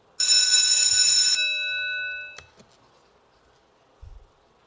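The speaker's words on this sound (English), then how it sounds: "Please do not vote until you hear the bell." Voting bell in the House chamber rings once, a bright metallic ring of about a second that fades away, followed by a faint click and a low bump in an otherwise quiet room.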